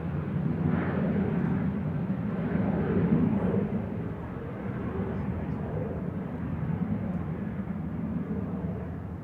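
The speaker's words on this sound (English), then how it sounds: "737-800 cargo conversion aircraft" A Boeing 737-800 cargo conversion jet departing Manchester Airport, a broad, continuous engine roar that holds strong and steady, swelling slightly at times, with no speech over it.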